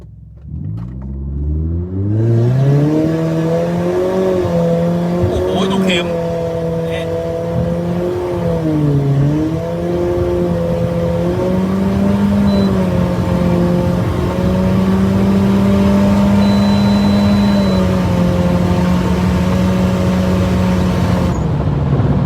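A turbocharged Toyota Altis sedan launches from a standstill. Its engine climbs quickly to a loud, droning rev and then holds a sustained, slightly wavering roar for about twenty seconds.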